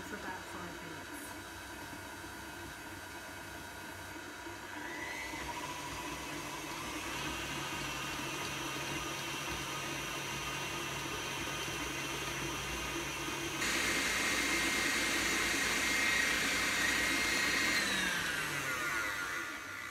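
An electric stand mixer beats butter and sugar, a steady motor whir that climbs in pitch as the speed goes up and runs continuously, growing louder partway through.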